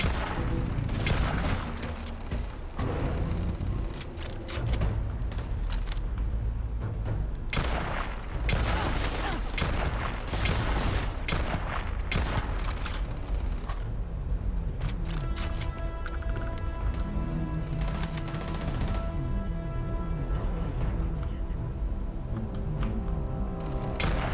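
Repeated gunfire bursts and fusillades in the space game Starfield, with sharp volleys and booms crowding the first half, then steadier shots under a droning tone, loud and continuous throughout.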